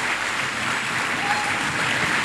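A forum audience claps in a dense, continuous wash of applause that holds steady and fairly loud throughout.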